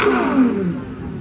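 A Lamborghini engine revs hard at a crowded car meet, a loud, close rising and falling roar that fades slightly toward the end.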